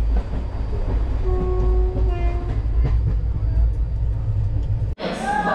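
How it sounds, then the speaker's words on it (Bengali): The Sethu SF Express from Rameshwaram pulls into Chennai Egmore station with a loud, continuous low rumble, a few faint horn tones midway and a sharp clunk near the end. "আধা ঘন্টা লেটে চেন্নাই ট্রেন ঢুকলো"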